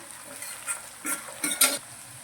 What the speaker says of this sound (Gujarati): અંદર લઈ લઈશું અને તેને પણ આપણે ડુંગળીની સાથે સાંતળીશું